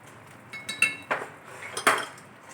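A teaspoon clinks against a pot while sugar goes into simmering tamarind chutney, giving a few sharp metallic taps and scrapes spread over a couple of seconds, close and fairly clear.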